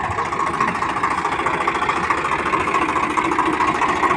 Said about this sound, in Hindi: देखें सारे भाई वो ट्रैक्टर भी तगड़ा ही है कुछ